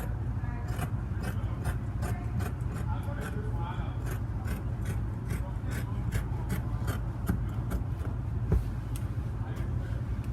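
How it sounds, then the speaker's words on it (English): Scissors cut fabric along the armhole of a collared button-up shirt, giving a steady series of crisp snips close up over a low continuous background hum. "So I'll be cutting my armhole."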